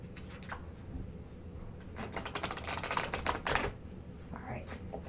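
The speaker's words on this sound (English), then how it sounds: "I'll give you one more shuffle." A quick run of crisp, fluttering clicks as tarot cards are riffled and shuffled close by, bursting in the middle of otherwise quiet ambience.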